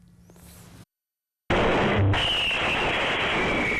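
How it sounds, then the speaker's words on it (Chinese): Firecrackers set off during a temple procession on a street erupt after a brief silence into a loud, dense, continuous crackling barrage that stays close and intense to the end. "爆炸声音真大声，大家拢惊一跳。"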